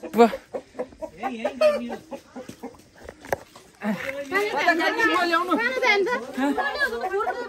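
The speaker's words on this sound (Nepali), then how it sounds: "यो चाहिँ रातो भाले कति किलो होला" A red rooster clucks and squawks at close range in a farmyard during Dashain in Gorkha, its repeated calls rising in a busy run, while several people talk over it.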